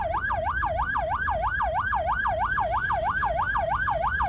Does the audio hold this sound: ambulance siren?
yes